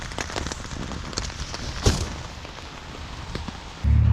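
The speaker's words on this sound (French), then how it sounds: "la bonne nouvelle, c'est que la pluie est revenue" Rain falling on a campsite during a bicycle tour, a steady fine patter with scattered louder drops and one sharp crackling burst midway, then a sudden low rumble at the end.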